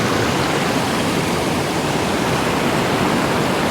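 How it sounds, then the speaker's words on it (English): A waterfall in a Washington State forest, swollen by heavy rain, gives a steady, loud, close roar of rushing water with no pause across the whole stretch. "Now a little bit farther up, another waterfall."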